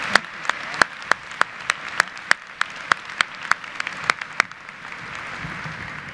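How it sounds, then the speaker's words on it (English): Convocation crowd claps in a steady, evenly spaced rhythm of sharp beats for a student named Sarah, then the beat dissolves into a softer, scattered wash of applause. "Let's give Sarah one more round of applause for that excellent job"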